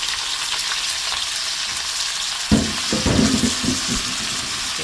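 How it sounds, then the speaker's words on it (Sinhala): Sausages drop into a hot pan of oil, and a steady background sizzle jumps into a louder, crackling fry with a few stirring knocks. "ඒක හොඳට දැදීගෙන එනකොට අපේ සොසේජස් ටික දානවා."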